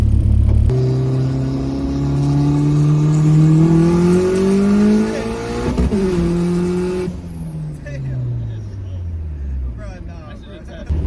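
A boosted Honda Civic EK accelerates hard from inside the cabin, engine pitch climbing steadily through a gear, a brief shift, then climbing again before easing off, loud and close with a voice talking over it.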